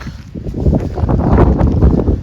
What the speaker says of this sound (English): So it is getting a little windy, but we are at the top.